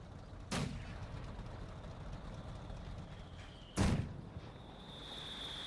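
Artillery strikes in Company of Heroes 2: two heavy booming impacts land a few seconds apart over a steady low battlefield rumble, the second louder, with a faint high whine drifting in afterward.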